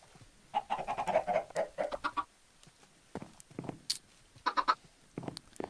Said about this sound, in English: How many chickens we got going over here?